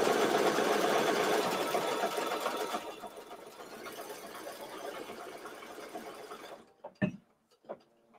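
A ScanNCut embroidery machine rapidly stitches a placement line for a bandana, a fast busy mechanical chatter close by that gradually quietens and then stops, followed by a few soft clicks.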